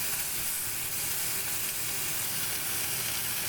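New York strip steaks sear in a hot cast iron pan with a loud, steady sizzle and hiss, close up, continuous and crackling throughout with no voices.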